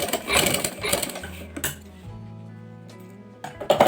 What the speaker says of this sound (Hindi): इस तरफ भी हम सिलाई लगा लेंगे।